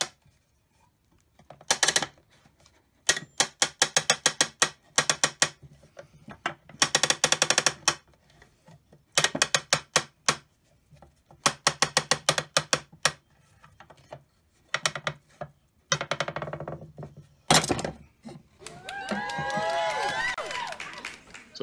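A blind hole pilot internal extractor pulls a bearing from a Stihl 044 chainsaw case, giving bursts of sharp metallic ratcheting clicks in repeated runs separated by pauses, fairly close, with a brief scraping squeal near the end.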